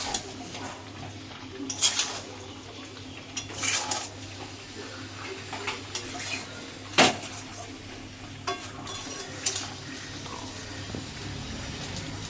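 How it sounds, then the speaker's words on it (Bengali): Salted meat being mixed with spices in a cooking pot, with scattered clanks and scrapes of a utensil against metal at irregular intervals, fairly faint against a low steady background hum. "নুন দিয়ে এবার একটু ভালো করে মিশিয়ে দিচ্ছি"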